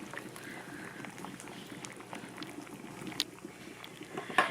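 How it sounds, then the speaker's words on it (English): A water-bath canner at a rolling boil with jars of wild saskatoon berry jam inside the pot, giving a steady, soft bubbling and gurgling with occasional small pops, heard alone and fairly faint. "it's at a rolling boil and the jars aren't touching each other or the sides of the pot or the bottom of the pot"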